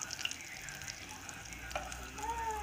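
Falafel fry in hot oil with a continuous, fairly faint bubbling sizzle that swells slightly toward the end.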